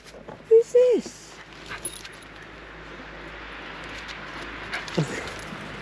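A dog whimpers in two short high whines near the start, then a faint whine later, over quiet room noise and some soft talk.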